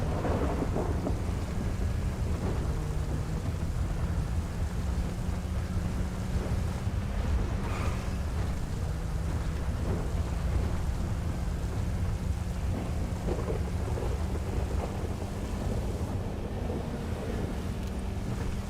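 Thunderstorm with steady heavy rain in GTA 5, a continuous dense roar of rainfall with low rumbling thunder and wind buffeting throughout, no voices.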